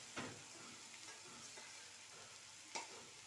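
Tomatoes fry in a little oil in a pan with a steady, faint sizzle, broken by two soft stirring scrapes.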